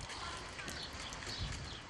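A horse on a hot day is led by police into a shaded area behind a company building, its hooves clopping in a soft, muffled rhythm amid outdoor street noise.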